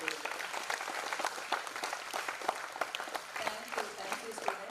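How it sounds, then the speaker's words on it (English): Applause for the parents at a university freshers orientation ceremony: a large audience claps steadily and densely, with a crowd murmur underneath. "a special round of applause for the parents who have brought all their dreams as kids here in VIT today"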